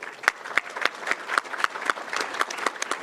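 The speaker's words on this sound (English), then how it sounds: "Can we give another round of applause to our panel?" Audience at a Momocon 2024 convention panel on the animation industry clapping; a close, moderately sized crowd with sharp individual claps standing out in a fairly regular rhythm over a softer bed of applause.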